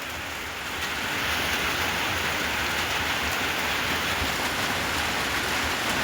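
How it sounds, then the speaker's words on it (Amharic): Steady rain falling outdoors, a dense even hiss that swells within the first second and then holds constant and fairly loud throughout, with no voices. "ቀዝቀዝ እያለ ስለሆነ ዝናቡ በጣም አሪፍ ነው።"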